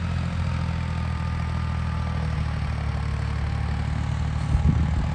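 A Hira tractor's engine runs at a steady low idle nearby, a continuous rumbling drone with slight mechanical clatter and a brief rise in rumble near the end.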